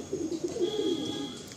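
Tippler pigeons cooing softly in a pigeon loft, a short series of low, rolling coos close by, quiet and alone without voices.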